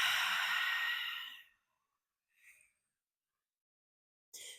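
A deep breath is blown out hard and long in one loud exhale that fades away, followed by silence, then a short faint breath and a fresh intake at the end.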